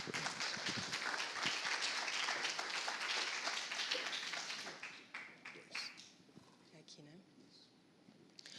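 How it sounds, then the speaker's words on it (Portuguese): An audience at a business innovation event applauds loudly, the dense clapping sustained for several seconds before tapering off into scattered claps and quiet room noise. "que podem ser aplaudidos também"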